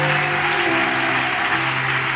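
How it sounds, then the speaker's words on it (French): A church congregation applauds and cheers for a colonel, a dense wash of clapping mixed with sustained voices and a steady tonal hum underneath, loud and continuous. "Acclamez très fort pour le colonel."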